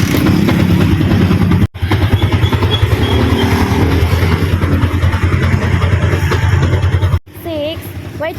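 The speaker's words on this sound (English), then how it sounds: "crank once again until the engine starts and makes noise." A motorbike engine cranks and catches, then runs steadily at a loud, close idle with a brief cutout partway through, while a voice speaks over it.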